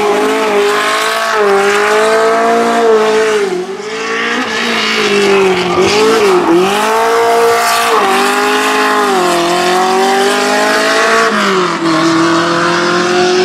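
A historic race car climbs the La Muraz hill at full throttle, its loud engine whining up and down through gear changes and corners, passing close for several seconds with a brief dip mid-run.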